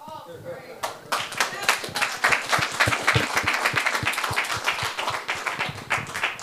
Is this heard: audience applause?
yes